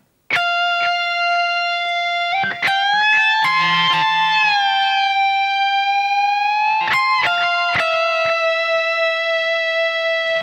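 Electric guitar plays a sustained, distorted lead phrase, with long held notes, several clear string bends sliding pitch up and back, and a few sharp note changes, loud and close, with no talk.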